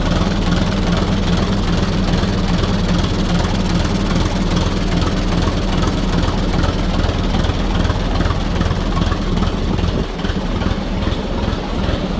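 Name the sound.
old Fordson tractor engine running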